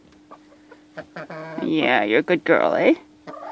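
A hen clucks and squawks up close in busy bursts at its winter roost in Canada while a person talks softly nearby.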